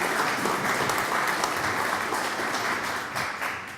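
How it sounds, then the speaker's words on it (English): An audience at a business growth and economic incentives briefing breaks into loud, sustained applause, many hands clapping in a dense wash that tapers slightly toward the end. Nobody speaks over it. "Just give a round of applause for Terry and everything that she does."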